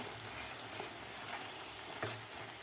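Egg masala being stirred and mixed in a pan, with a steady broadband sizzle and faint scraping of the spoon throughout, no voices.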